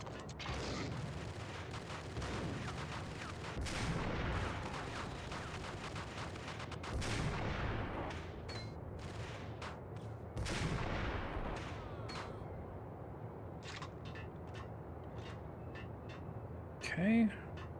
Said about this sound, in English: Can't waste that many shots on one guy.